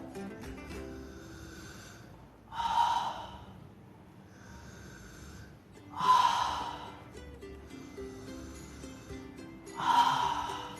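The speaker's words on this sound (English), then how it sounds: "I will inhale through my nose and I will breathe out through my mouth." Three slow, deliberate breathing cycles over a steam vaporizer, each a long audible breath with a louder exhale through the mouth, evenly spaced and close with quiet pauses between.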